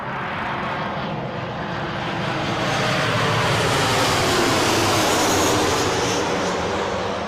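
An airplane passing at Newcastle airport, a broad steady jet roar that swells slightly louder toward the middle and holds, heard from outdoors with no talking.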